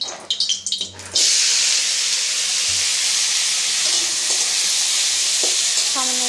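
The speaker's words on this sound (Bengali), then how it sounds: "দিয়ে কেটে রাখা বিনস আর গাজরগুলো ভেজে নেব" Chopped beans and carrots hitting hot refined oil in a kadai: a brief clatter of pieces dropping in, then a loud, sustained hiss of frying that settles into a steady sizzle with occasional stirring.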